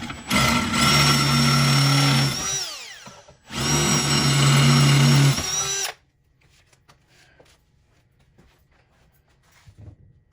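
A power drill bores a 15/64 inch hole for a GC1725M ammo tool box mount, two loud whining bursts that wind down between, followed by quiet handling clicks.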